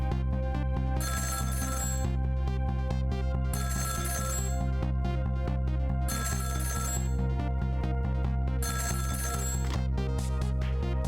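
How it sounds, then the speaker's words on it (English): Repeated electronic telephone ringing from the video game Ghost Trick, in four bursts of about two seconds each spaced by short pauses, steady and fairly loud over continuous background game music, with no speech. "About 2 hours before dawn, the phone rang."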